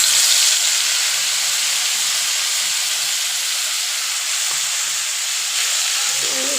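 Spices sizzle in hot oil for a rui fish curry, a steady close frying hiss that continues evenly throughout with no one speaking.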